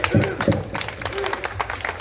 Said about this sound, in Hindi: जोरदार तालियां कहां से बजेगा भाई।